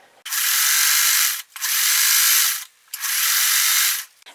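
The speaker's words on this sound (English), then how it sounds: "And I'm going to sew." A sewing machine stitches quilt fabric strips in three steady, close bursts of fast whirring, each about a second long and separated by brief pauses.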